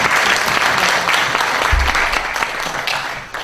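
A crowd at a book concert in Jeju claps in steady, full applause throughout, loud and close with a busy, continuous texture and no talking.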